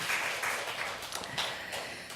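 A church congregation applauding during a Sunday afternoon service, a steady wash of clapping that swells and dips for about two seconds.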